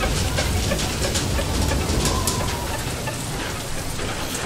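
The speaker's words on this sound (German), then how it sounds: "Oh, Gewitter schon wieder." Thunderstorm in the video game FAR: Lone Sails: steady, heavy rain hisses continuously, dense and close, with no voices and no distinct thunderclaps.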